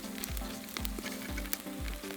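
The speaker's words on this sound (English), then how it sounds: "You can see the fat still sizzling on there." Pork belly fat sizzles and crackles steadily over a wood fire, with small pops over a constant frying hiss. The sound is close and fairly quiet, with no voices.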